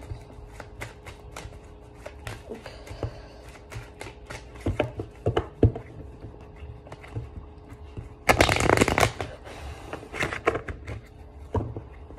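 Tarot cards being shuffled by hand in a quiet room, a run of soft riffling flutters and taps with a louder, dense burst of card shuffling near the end, no talking.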